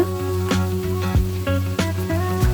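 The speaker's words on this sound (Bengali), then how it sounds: "কিছুক্ষণ তেলে ভাজার পর যখন এগুলো সুঘ্রাণ ছড়াবে তখনই আমি দিয়ে দিব আদা বাটা রসুন বাটা পেঁয়াজ বাটা" Ginger, garlic and onion paste frying in hot oil for a Bangladeshi village chicken curry, a loud, steady sizzle with a few sharp stirring scrapes and a low tonal hum running underneath.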